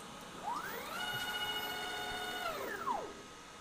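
A CNC machine runs a Z-axis test G-code, its stepper motors whining as they ramp up in pitch, hold a steady tone, and ramp back down in a single short move.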